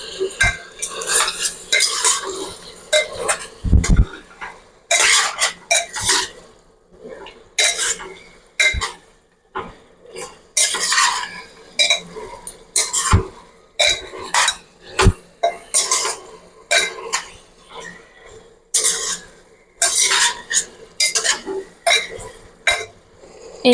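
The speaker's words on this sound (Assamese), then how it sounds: "এয়া মাংসখিনি 15 মিনিটমান লাগি ধৰিব নিদিয়াকৈ ভাজি থাকিম।" Goat meat frying in a pan is stirred over and over with a metal utensil, close scraping and clinking strokes in irregular bursts over a low sizzle, without talk.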